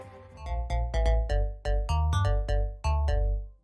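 Rubber-style lead synth with all oscillators switched on, playing a bouncy run of about a dozen staccato notes with rich, buzzy harmonics and heavy low end, loud and alone.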